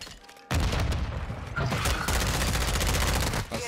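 Rapid gunfire in the shooter game Warzone, close and loud, bursts of automatic shots that go on almost without a break after a quieter opening.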